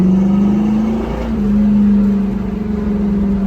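A 1966 Ford Mustang with a 302 V8, freshly tuned with timing and carburetor adjustments, drones steadily as it accelerates down the road, its engine note loud and continuous throughout without any talk.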